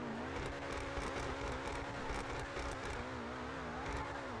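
An Obey 10F sports car in GTA 5 drifts, its engine holding a loud, steady, slightly wavering rev close up for the whole stretch, with no voices.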